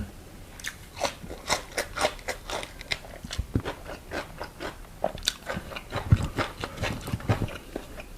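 Crisp, repeated crunches of someone biting and chewing fresh raw vegetables served alongside steamed tilapia, up close and loud in an irregular rhythm of sharp bites, with no talk.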